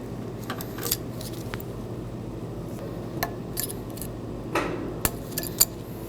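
A pocket screwdriver pushes anti-rattle clips into place on a 2015-2020 Ford F-150 front brake caliper, giving scattered light metallic clicks and clinks over a quiet background, close and with no voices.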